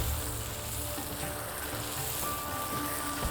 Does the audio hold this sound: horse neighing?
no